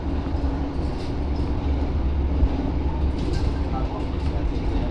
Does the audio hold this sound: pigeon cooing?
no